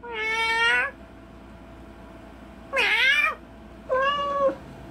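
Three distinct cartoon cat meows from South Park, drawn-out and tonal, close and fairly loud, separated by short quiet pauses.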